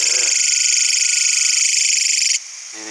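A long-horned grasshopper vibrating its wings makes a loud, steady high-pitched buzz with a fast pulsing texture, droning for over two seconds, then cutting off abruptly.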